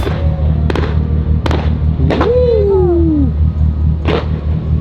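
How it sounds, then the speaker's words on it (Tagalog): Several sharp firework pops and bangs ring out at intervals over a low engine hum from a super yacht off Singapore, with a rising whistle sweeping across one burst. "May fireworks si Captain"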